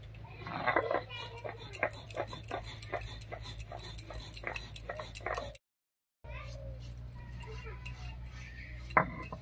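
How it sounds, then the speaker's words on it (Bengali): Fried spices being ground into powder give a run of rapid, rhythmic scraping and clicking strokes. The strokes pause briefly in silence, then resume more sparsely. "এদিকে আমি ভেজে রাখা মশলাটা গুঁড়ো করে নিচ্ছি।"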